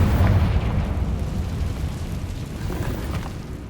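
A Confringo explosion spell in Hogwarts Legacy hits with a deep, loud boom at the start, then fades into a long rumbling decay.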